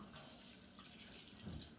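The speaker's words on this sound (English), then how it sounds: "let me wash my hands" A faucet runs with a faint, steady splash of water while hands are washed at a kitchen sink, quiet and distant.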